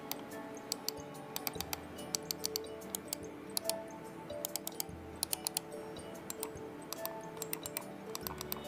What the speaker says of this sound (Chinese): 把家中的正在使用的几款鼠标的声音都录制下来